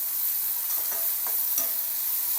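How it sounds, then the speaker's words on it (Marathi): Chopped onion and one chopped tomato with salt sauté in a pan as the base for Maggi noodles, making a continuous close sizzle. Several soft spoon scrapes and stirs sound over it, and no one speaks. "कापलेला एक टमाटा, चवीनुसार मीठ, परतून घ्यायचं।"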